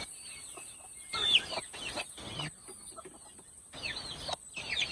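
Native chickens on a provincial farm clucking in short bursts over a quiet outdoor background, one or two birds fairly close, with no talking.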